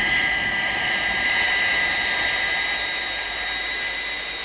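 A Thunderbirds jet aircraft engine in high-speed flight gives off a steady, continuous roar with a high whine riding on top. It stays loud and constant for several seconds with no voices.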